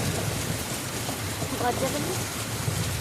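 Steady heavy rain in Arambagh hisses across the whole spectrum, a dense continuous wash with a low rumble underneath and faint voices mixed in.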